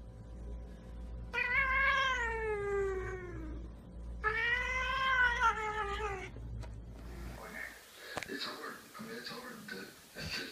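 A cat gives two long, drawn-out wailing meows in close succession, loud and near, followed by a stretch of softer rustling background noise.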